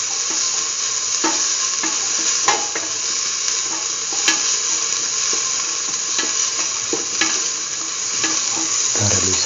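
Grated coconut and green tomato mixture sautés in a hot pan, a steady close sizzle broken by repeated spatula scrapes and stirring taps, with no talking.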